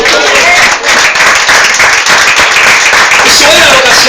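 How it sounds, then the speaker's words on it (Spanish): A church congregation breaks into loud, sustained clapping filling the whole stretch, a dense close wash of hands with some crowd noise mixed in. "Denle un aplauso, por favor."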